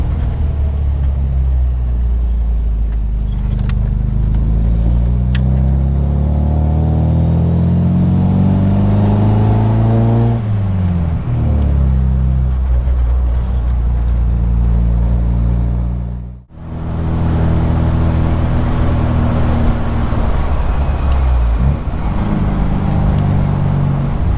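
An old MGB Roadster engine labours up the steep Buttertubs Pass in Yorkshire, droning loud and close at half throttle, its pitch rising and falling with gear changes and cutting out briefly before pulling again.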